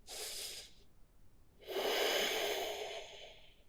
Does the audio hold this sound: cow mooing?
no